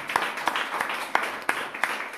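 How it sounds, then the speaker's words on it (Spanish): A church congregation claps in a soft, steady wash with sharper claps standing out at irregular moments, fairly faint and without talk. "Dale un fuerte aplauso"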